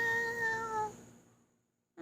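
A cat named Kaya lets out a single clear, close meow that fades into silence, followed by a faint sound at the very end.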